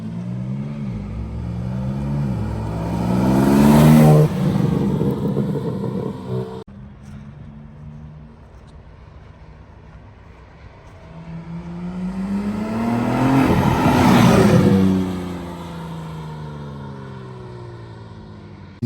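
Stock BMW G80 M3 making two flyby passes, its engine revving and swelling loud as it nears, then fading, with a rising-falling pitch sweep each time.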